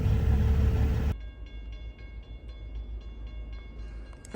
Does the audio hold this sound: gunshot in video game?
no